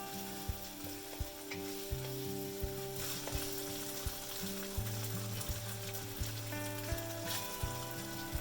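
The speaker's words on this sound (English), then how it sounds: "Add 2 tablespoons oil and stir-fry the beef slices for 1 minute." Sliced beef stir-frying in a small amount of oil gives a steady, dense sizzle with occasional stirring scrapes, close and continuous, no voices.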